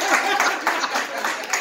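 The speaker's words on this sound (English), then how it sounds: "Yes, give them all the clap that you can give them." Audience applause at an evening performance event with a lineup of performers, a steady wash of clapping sustained throughout at moderate level.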